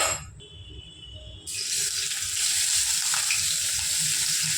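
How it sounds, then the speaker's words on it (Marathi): Chopped onion sautés in a pan on a home stove, a loud, steady close sizzle that jumps sharply in level after the first second and keeps going, with no talking. "आधी कांदा आपण चांगला परतून घेऊया"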